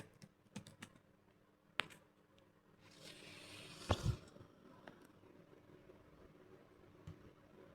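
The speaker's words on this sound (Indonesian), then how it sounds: "kita isi nama lengkapnya yaitu Alia, lalu kita input agama," Typing on a computer keyboard to fill in a web form, faint scattered key clicks with a brief busier burst in the middle, quiet room.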